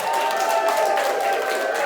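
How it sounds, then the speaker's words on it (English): A concert crowd at the Depot in Norman, Oklahoma applauds steadily, with dense, continuous clapping and cheering filling the room at a loud, even level. "This is the crowd at the Depot in Norman, Oklahoma."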